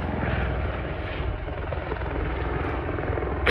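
Patrulla Aspa helicopters take off in formation at Ala 78, producing a loud, continuous rotor and engine roar that stays steady and fairly close throughout.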